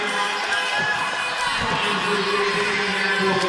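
Handball finals crowd on its feet in the closing seconds, a steady roaring wall of cheers filling the arena, loud and continuous throughout.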